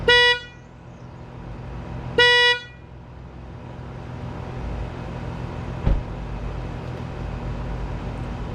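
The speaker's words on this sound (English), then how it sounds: "Go ahead and do a sound clip before and after of what the horn sounds like" Two short, thin, weak honks from the factory horn of a 2023-2024 Honda CR-V sound close by, separated by a pause, over a low idling engine hum.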